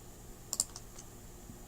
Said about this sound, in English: So let's type in find in 19 and see if it finds that.